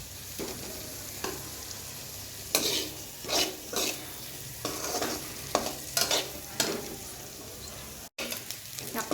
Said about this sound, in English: So we will just saute it like for a minute or so